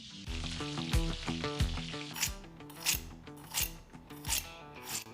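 Steady sizzling and crackling of a potato-crusted sea bream fillet frying in a hot pan, with rhythmic thumps of music underneath and no talking.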